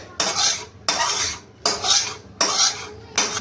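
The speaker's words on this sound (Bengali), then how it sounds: "পুরো মাটনগুলো ঢেলে দিলাম এর মধ্যে।" A utensil scrapes and stirs mutton through a heavy pot in five regular strokes, each a rough, close-up scraping sweep with short pauses between.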